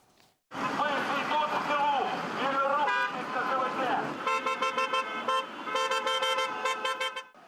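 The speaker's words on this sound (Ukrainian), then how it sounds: "У центрі Черкас уже традиційно щонеділі закликають водіїв сигналами клаксонів згадати полонених та зниклих безвісти захисників України" Car horns honk in central Cherkasy at a Sunday rally for prisoners of war and missing soldiers. Voices and street noise come first, then a run of repeated short toots and longer blasts from several vehicles, loud and close.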